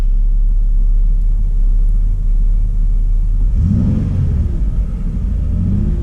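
A Chevy Impala 3.5 engine with a misfire fault idling with a loud, steady low rumble, then revving up partway through, the pitch climbing and holding briefly before easing back.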